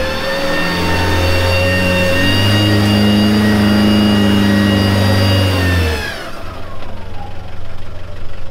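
A Land Rover Defender engine on a Toolangi off-road trail revs loud and close, holding a strained, rising drone for about six seconds before dropping abruptly to a rough, quieter idle.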